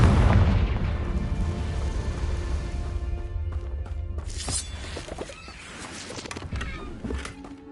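A loud booming explosion from a Confringo spell in a Harry Potter video game, a heavy blast at the start rumbling and decaying, followed by scattered crackling bursts and debris.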